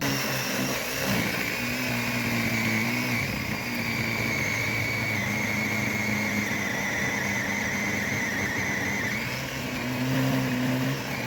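A cordless battery-powered saw whines continuously for several seconds, its pitch rising and dipping as it labors and binds in the material, with steady mechanical buzz.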